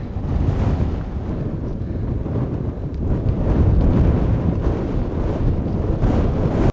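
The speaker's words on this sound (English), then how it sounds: "Very windy." Strong wind on a mountain summit in Montana's Bob Marshall Wilderness buffets the microphone in a continuous roaring rush, gusting louder midway and then dropping off abruptly at the end.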